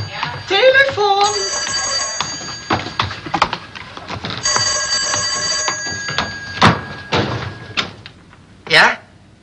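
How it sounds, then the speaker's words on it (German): An old-style telephone bell rings in short bursts indoors, set in a 1963 German film comedy, with people talking around the ringing and a few knocks and thuds nearby. "Telefon!"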